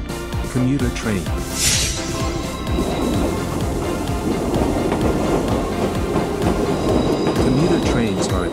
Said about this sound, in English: Commuter train.